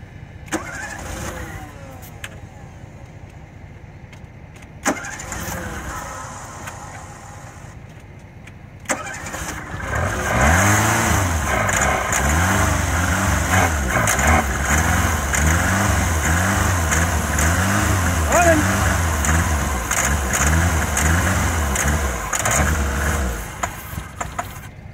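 An old AMC Javelin pulled from a hoarder's building cranks with a rhythmic starter churn, catches after several seconds, then runs roughly and unevenly at a loud, close, steady idle.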